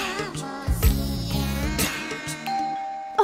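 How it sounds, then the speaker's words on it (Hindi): A doorbell chimes in a dubbed Hindi comedy scene starring Brahmanandam and Ravi Teja, a ding-dong tone ringing over background music and effects, with a sustained tone near the end. "का भाई घंटी काहे बजौला?"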